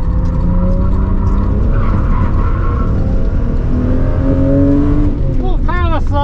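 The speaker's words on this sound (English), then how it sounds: "Sliding and drifting, but that was pretty fun." A 200bhp Toyota MK4 Supra with badly worn rear tyres drifts, its engine droning loudly and steadily before the tyres break into rising, wavering squeals near the end.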